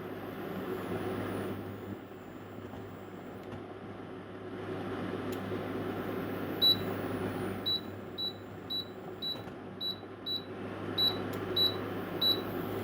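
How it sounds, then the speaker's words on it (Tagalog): Short electronic beeps from an electric cooker's control panel as a two-hour timer is set during pork soup cooking, about a dozen evenly spaced beeps in quick clusters over steady background hiss. "Tapos, ita-timer natin ng 2 oras."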